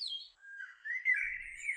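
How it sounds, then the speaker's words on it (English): AI-generated blackbird song set at summer dusk in a forest: a couple of clear, fluting whistled phrases, close and alone against near silence. "The next is Blackbird Song"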